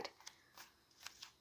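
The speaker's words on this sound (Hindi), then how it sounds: "क्विकली इस डेक से भी कार्ड्स पिकअप कर लेती हूँ।" Cards from a deck are picked and slid apart, giving a few soft, quick papery flicks and riffles at close range, faint and brief, with no voices.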